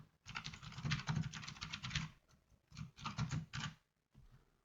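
Someone types a natural-language sentence on a computer keyboard in bursts of rapid, close keystrokes separated by short pauses.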